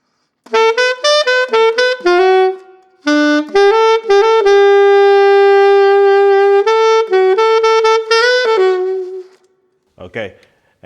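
A solo saxophone plays a melody, with clear phrased notes, a quick run of short tones, then long held notes, and a brief noise at the end.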